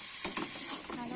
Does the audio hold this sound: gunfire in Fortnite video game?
no